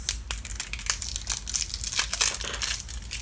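Crinkly plastic and bubble wrap packaging being handled and pulled open, a continuous close run of rustles, crackles and tearing sounds with no talk.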